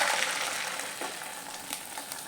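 An egg fries in a pan, giving a loud, dense sizzle that starts strong and settles into a steady crackle with small pops.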